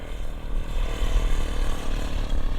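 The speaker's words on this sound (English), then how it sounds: "That's a motorcycle." Motorcycle engine in the desert, a steady, rough low drone that stays loud and fairly near throughout with no speech over it.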